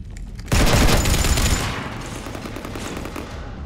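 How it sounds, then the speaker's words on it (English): Heavy automatic gunfire sprays across a ship in the video game Mass Effect 3, a sudden dense roar of rapid shots that starts abruptly and then tapers into a steadier, quieter barrage with no talking. "You want to stop shooting up my ship?"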